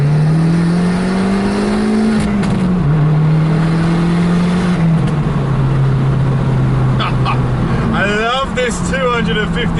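An Abarth 595 Competizione engine, 250 BHP, drones loudly and steadily, its pitch rising and dipping as it revs, with a voice talking over it near the end.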